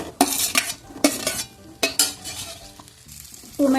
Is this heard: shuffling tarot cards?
no